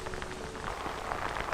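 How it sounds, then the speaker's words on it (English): Heavy rain pours down steadily during a bass fishing tournament on the water, a dense, close, continuous hiss of drops drumming on surfaces at even loudness throughout. "It's freaking downpouring"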